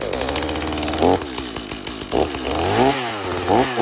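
A STIHL MS250 chainsaw, on choke and switched to run, fires up with a loud two-stroke engine burst, then idles and revs in short surges, close and alone.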